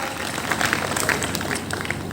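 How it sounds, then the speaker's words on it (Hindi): Audience claps at a Hindi poetry gathering (kavi sammelan) in Bhimgarh, a brief scattered round of clapping with a few louder individual claps standing out. "जोरदार तालियों से आप आवाज दें"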